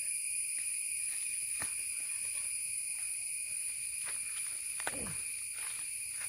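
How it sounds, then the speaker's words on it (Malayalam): Steady, shrill insect buzzing fills a forest in the Nilambur area, with sustained high tones and faint scattered bird chirps and rustles underneath, no talking. "കിളികളുടെ ചീവീരിന്റെ ഒക്കെ ഒരു സൗണ്ട് കേൾക്കുന്നുണ്ടോ?"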